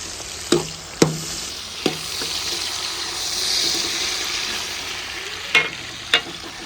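Tomatoes fry with well-browned onions in a pan, a continuous hissing sizzle broken by a handful of sharp utensil knocks, close and fairly loud with no talking.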